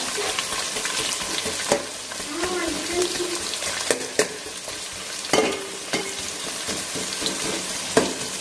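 Onions and masala sautéing in a pan for a vegetable biryani, with a steady sizzle broken by sharp scrapes and stirs of a spoon. Water runs faintly now and then, and there is no talk.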